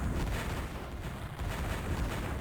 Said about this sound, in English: the heavy rocket sled is of course shooting on our solar plant